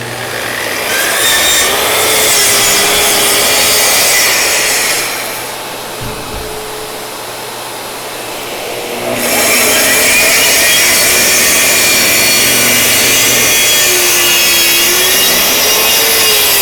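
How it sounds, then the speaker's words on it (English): A saw cuts through a sheet of wood laid over sacrificial pieces on a workstation while building a cubby cabinet, a loud steady rasp that drops to a quieter hum midway before resuming at full strength. "I've got some sacrificial pieces underneath this sheet that I'm just cutting through so that I don't cut into my workstation"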